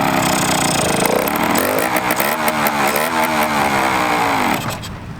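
Loud, close engine of a 120HP racing go kart with a rich-running carburetor revs up in wavering pitch, stumbles and bogs, then drops off near the end.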